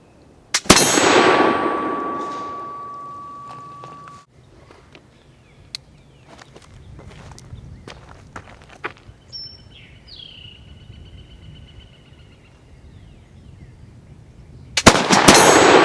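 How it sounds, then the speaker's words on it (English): A Pedersoli Kentucky black powder pistol fires a loud, sharp shot, and a bright metallic ring follows as the ball strikes a steel target. A second blast comes at the end, with scattered small knocks and bird calls in between. "it's time to break out the Pedersoli Kentucky pistol and make them pay"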